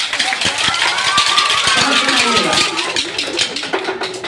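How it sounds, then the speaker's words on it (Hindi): An audience at a workshop claps steadily for a participant, a dense, continuous patter of many hands close by that holds at an even level for several seconds, with a faint background hum. "इनके लिए जोरदार ताली बजा दीजिए"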